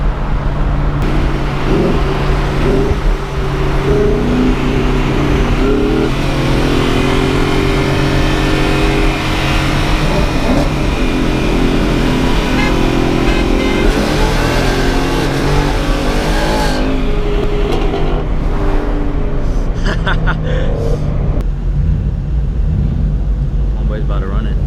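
A Ford Mustang 5.0 with a 10-speed gearbox revs and races, its loud engine roaring and climbing through repeated rises and gear changes for a long stretch, with voices talking over it.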